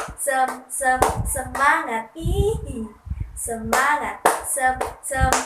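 Class of first-grade children doing a rhythmic clapping chant with their teacher, bursts of hand claps alternating with loud group chanting of a repeated word in a steady pattern.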